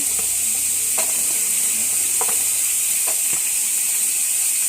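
Chopped ginger and garlic fry in hot oil in a pan for homemade sambar, giving a steady close sizzle with occasional clicks of a spoon stirring.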